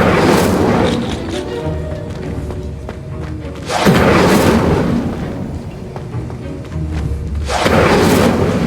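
Incendio fire spell cast in Hogwarts Legacy, two loud whooshing, booming bursts of flame a few seconds apart over a low rumbling game background.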